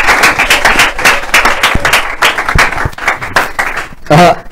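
A studio audience claps and cheers to welcome an evangelist onto a live Christian television set. The applause is loud and dense and runs throughout, with voices mixed in.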